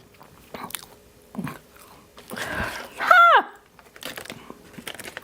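Crunchy, salty-sweet fish snack bitten and chewed up close, with scattered crisp crunches and a louder chomp partway through, joined by a short vocal murmur.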